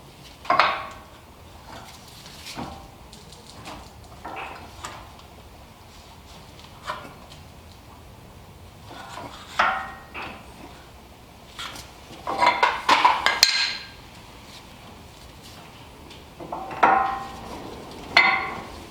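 Metal parts of a Toyota 4Runner front brake, the pads and caliper piston, are handled with scattered light clinks, taps and scrapes at irregular intervals, fairly faint and close, with no talking.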